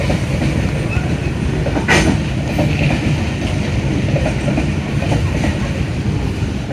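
A train rolls past close by, loud steady rumble with rhythmic wheel clatter and occasional metallic squeal throughout.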